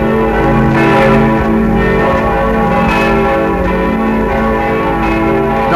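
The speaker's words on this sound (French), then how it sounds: "Toutes les cloches de Paris se sont mises à sonner." The church bells of Paris peal continuously in a dense, overlapping wash of ringing tones, loud and sustained with no voices.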